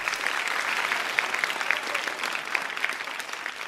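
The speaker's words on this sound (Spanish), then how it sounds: "Vamos a recibir con un fortísimo aplauso a Virginia Tiros Me Traen." A studio audience at a Spanish-language interview event on Europe breaks into dense, steady applause to welcome a guest, a loud, even wash of many hands clapping with no voices over it.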